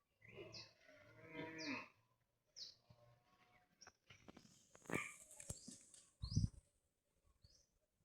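Farm cattle moo in low, drawn-out calls during hot weather, faint and somewhat distant, with a few scattered knocks and other animal sounds between them.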